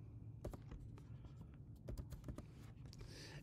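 A computer keyboard is typed on with quick, light key taps in short irregular bursts. The clicks are close and fairly faint.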